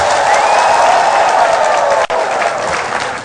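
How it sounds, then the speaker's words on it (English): A seminar audience gives a round of applause, dense loud clapping that fills the room without a break, dips sharply for a moment, then continues and slowly fades. "What about an excellent round of applause?"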